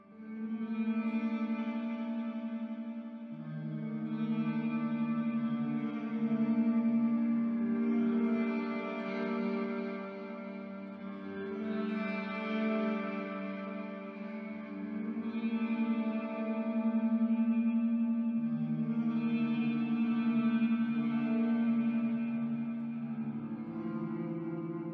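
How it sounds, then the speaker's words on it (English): Electric guitar through a Mesa Boogie clean channel amp simulation on the neck pickup, playing sustained chords with echo and chorus-like shimmer, ringing steadily and alone for the whole stretch with no talk. "So it looks like we're going to be using the Mesa Boogie's clean channel for this preset."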